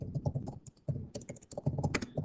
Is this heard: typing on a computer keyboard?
yes